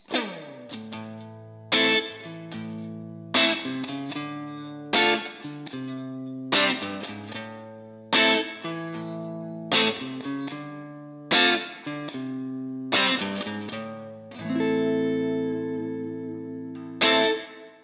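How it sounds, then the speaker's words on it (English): Electric guitar played through a Line 6 POD GO modeling a VOX AC30 amp with Hot Springs spring reverb: a clean, bright tone strummed in a regular series of chords, each ringing out with a reverb tail, up close with no talking. "And now I'm gonna add that Hot Springs reverb"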